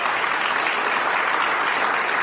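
Studio audience applause fills the space as a steady, dense wash of clapping, continuous and fairly loud throughout, with no talk over it.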